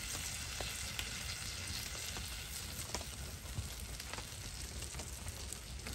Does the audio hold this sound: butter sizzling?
yes